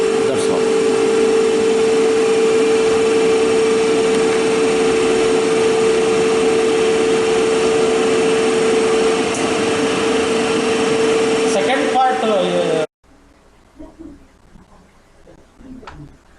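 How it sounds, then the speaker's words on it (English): A DC motor runs under Ward Leonard speed control in a machines lab, giving a steady loud electrical whine with a constant tone, then cutting off abruptly near the end, leaving faint room noise. "this will going to demonstrate the speed control of a DC motor in both forward and reverse direction"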